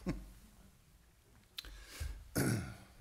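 A man clears his throat and gives a couple of short coughs, rough bursts separated by brief pauses, close to the microphone.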